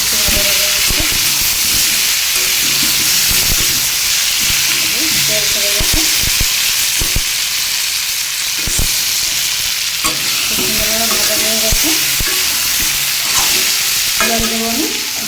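Pumpkin fries and hisses steadily in a pan for a vegetarian dish, with a loud, constant sizzle broken by repeated scraping and knocking strokes of a spoon stirring it close by.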